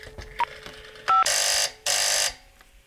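An old T65 telephone converted to DTMF rings extension 5: a short tone beep, then two long loud bursts of ringing separated by a brief pause, alone with no talk.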